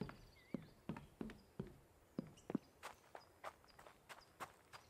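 Footsteps in the survival game Hold Your Own, a steady run of soft thuds and taps, some closer and louder, about a dozen spread across a few seconds with no talking.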